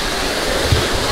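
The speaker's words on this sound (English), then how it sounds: "this is all water coming from the pool" Water pours steadily out of a resort swimming pool, a continuous close rushing wash like a small waterfall with no breaks.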